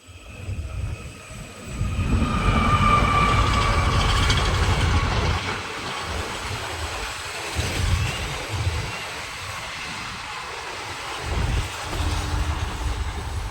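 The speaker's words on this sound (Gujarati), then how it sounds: "હવે પાછી ટ્રેન આવી છે ભાઈ છુક છુક ગાડી આવી છુક છુક ગાડી" A train rolls past close by with a loud, heavy rumble that swells over a few seconds, then eases into a steadier, quieter clatter as the cars continue by. No one speaks.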